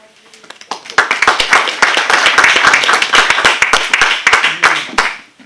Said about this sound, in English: So please give a hand of applause for Bahman.